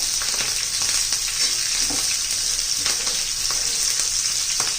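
Chopped green chillies roasting with cumin seeds in hot oil, an even dense sizzle throughout with occasional stirring scrapes, near and steady, no speech.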